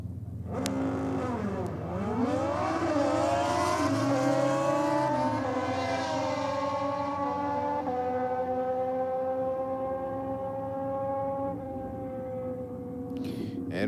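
Drag race car making a run at a track championship, its engine roaring loudly and steadily as it accelerates down the strip, pitch sweeping up through gear changes, then fading slightly toward the end.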